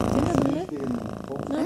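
A small cat at a Kyrgyz family's home purrs steadily and close, partly under voices talking over it.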